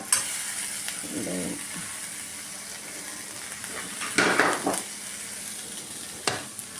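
Moong dal curry in a pan, with turmeric just added, is stirred over a steady frying sizzle, with a few louder scrapes and clinks of the utensil breaking through.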